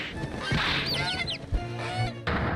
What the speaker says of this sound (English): I didn't expect there to actually be ducks here